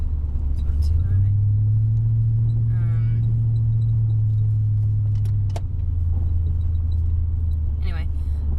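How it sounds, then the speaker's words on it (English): A truck engine with an exhaust leak from a loose bolt idles loudly with a deep, steady rumble that rises briefly and then settles. Faint clicks and rattles sit on top of the engine noise. "So my truck's awfully loud."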